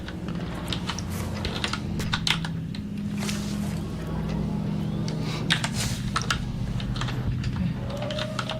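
Steady, rapid clicking of a computer keyboard during an ASMR gaming stream of Arc Raiders, close and crisp over a low background hum, with no pause in the typing.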